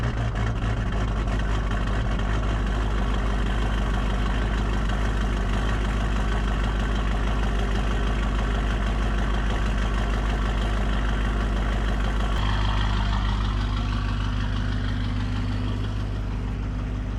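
A low-mile LB7 Duramax diesel pickup idles steadily with two small mufflers fitted, a deep, continuous rumble held close and loud throughout with no talk over it.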